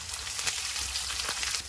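Onions frying in hot oil with bay leaf, red chili and garlic for goat trotter paya: a steady, close, even sizzle with faint crackles, running alone for under two seconds.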